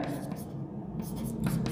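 Marker or chalk scratching across a board while a physics formula for floating bodies is written, a soft, continuous scraping close by, broken by short pauses, with low voice sounds underneath.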